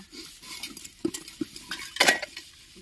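Dishes and metal utensils are scrubbed and rinsed by hand, probably with soil or dung rather than soap. Scraping and clinking knocks come in an irregular run and are fairly close, ending in a brighter clatter. No one speaks.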